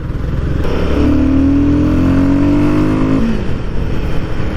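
A loud, close engine drone from a liquid-cooled Royal Enfield Guerrilla 450 motorcycle jerking at low speed. The pitch climbs steadily for a couple of seconds, then drops off abruptly under steady road and wind noise.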